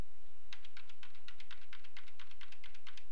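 Computer keyboard keys clack in quick, close, irregular bursts, pressed one after another with no talk over them.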